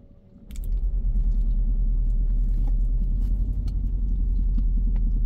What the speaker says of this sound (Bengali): গাড়িটা এখন স্টার্টে আছে